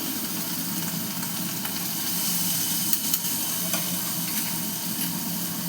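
Potatoes frying in hot oil with turmeric in a pan for a Bengali fish curry, a loud, steady close-up sizzle that continues unbroken, with faint stirring scrapes and no talking.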